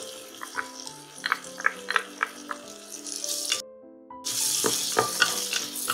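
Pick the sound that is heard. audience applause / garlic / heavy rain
garlic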